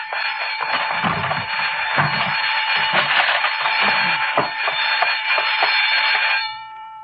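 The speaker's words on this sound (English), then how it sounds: "it's a burglar alarm from the flower shop" A burglar alarm at a flower shop rings continuously on a high, harsh tone, with faint thumps and rustles beneath, then cuts off abruptly near the end.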